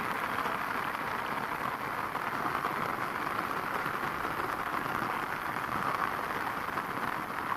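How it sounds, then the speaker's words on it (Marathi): Steady rain patters continuously at a moderate level on a fenugreek field, an even hiss of drops on surfaces with no voices. "पाऊस चालू आहे पाहू शकता तुम्ही"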